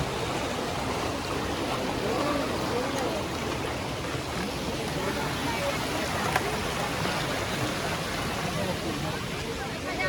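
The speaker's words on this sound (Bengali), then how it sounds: "এখান থেকে জল বেরোচ্ছে ওদিকে চলে যাচ্ছে" Stream water rushing steadily near a small waterfall in Purulia, a dense, continuous broadband wash throughout with no pauses.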